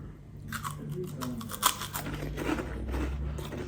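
Close, crisp crunching and chewing of a crunchy waffle dusted with icing sugar, with repeated bites and mouth noises and no talking.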